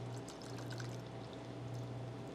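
Sparkling wine poured onto rum, cherry and pineapple in a cocktail glass, a steady close fizzing pour filling the whole short moment.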